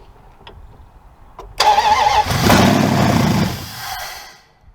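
A swapped engine in a Dodge Dakota pickup cranks and fires, a few faint clicks, then a loud burst of starter whine and catching engine that settles briefly before fading out.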